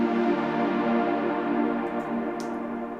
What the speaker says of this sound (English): I had an idea for a swell pad